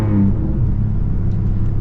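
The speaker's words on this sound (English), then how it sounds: "this just has such a clean exhaust note to it." Ford Raptor truck exhaust giving a clean, deep, steady rumble at close range, with a slight rise in revs at the start and no talk over it.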